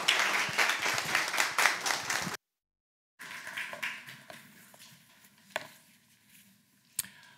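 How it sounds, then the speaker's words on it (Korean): A church congregation applauds to welcome the pastor at a Sunday worship service. Steady clapping breaks off, then returns more quietly and thins out into a few scattered claps. "우리 박수로 이 시간 환영하고 맞이하도록 하겠습니다"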